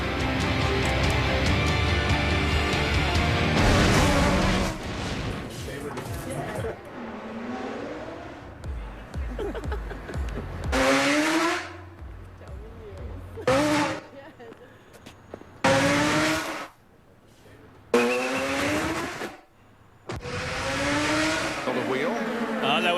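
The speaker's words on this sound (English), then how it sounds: "Clever of Castroneves to drift high there coming off because he knew on the high side was Hinchcliffe" IndyCar race cars racing at Iowa Speedway in the 2012 Iowa Corn 300. High-pitched engine whines roar past in repeated loud bursts with pitch sweeps and gaps between them, under commentators' talk.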